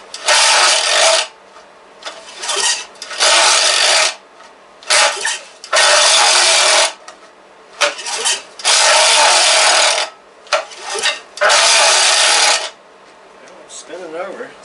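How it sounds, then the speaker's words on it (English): Repeated pulls on the recoil starter of a 1956 Johnson Sea Horse 18hp outboard engine with the spark plugs out, each a loud harsh rasping whirr lasting about a second, a dozen in irregular bursts, with a rough, worn tone. "Let's pull it over with the spark plugs out. Recoil don't sound too well."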